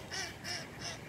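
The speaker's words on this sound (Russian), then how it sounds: "Утки все там вон гуляют по льду" Ducks on a frozen park pond give three quick, nasal quacks in an even rhythm, faint and somewhat distant, with no talking over them.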